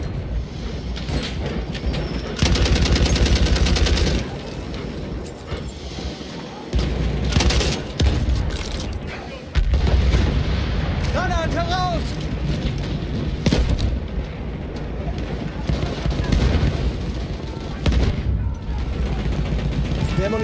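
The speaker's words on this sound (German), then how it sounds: "Ich werfe eine Granate." Battlefield 1 combat on the Amiens map in hardcore mode, with loud booming grenade blasts and bursts of gunfire erupting repeatedly over a rumbling tank engine, while a player talks now and then.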